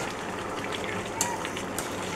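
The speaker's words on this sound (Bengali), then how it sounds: "এখানে আমি এখন ভাজে রাখা ডিমগুলো দিব, দিয়ে কিছুক্ষণ জ্বালাবো" Fried eggs slide into a pan of bottle gourd curry, which keeps up a steady close sizzle and bubble with a couple of brief clinks of a utensil against the pan.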